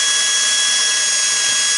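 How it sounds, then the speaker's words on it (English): A power drill cutting a slot while being moved up and down during a Segway clone build, a loud continuous high whine held steady throughout, with no speech. "So you take the drill and kind of move up and down"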